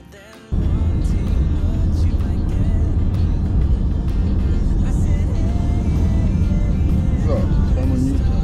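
Steady road noise of a car driving through Utah, a continuous broadband engine and tyre rumble that starts abruptly and holds at an even level, with faint talk mixed in.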